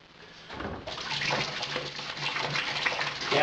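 Water pours steadily into a plastic fermenter to mix a Coopers Mexican Cerveza homebrew kit, starting as a soft trickle and quickly swelling into a close, continuous rushing splash.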